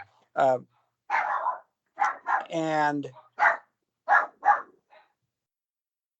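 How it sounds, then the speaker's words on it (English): Several household dogs bark in short, separate bursts, roughly seven or eight sharp barks with brief gaps, fairly close and loud, while a person speaks briefly. "Oh, our dogs are going crazy,"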